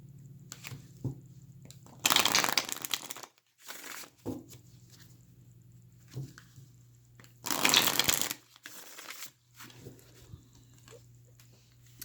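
Osho Zen tarot cards are shuffled in two crisp riffling bursts, each lasting about a second, with softer card taps and handling sounds between them over a faint background hum.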